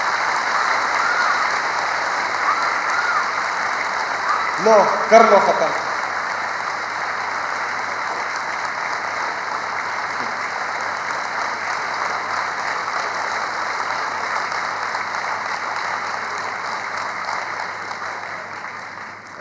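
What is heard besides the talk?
students applauding loudly for Imran Khan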